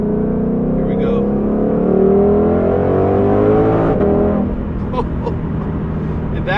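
A 2022 Ford Shelby GT500 Mustang accelerates at about half throttle with cold tires, its engine note climbing steadily and loud from the cabin for several seconds before settling into a lower, steady drone.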